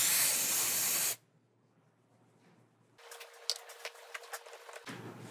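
A pump spray bottle of degreaser misting onto a car's exterior door handle area, a sharp, close hiss that cuts off, followed after a pause by a softer spritzing with small patters.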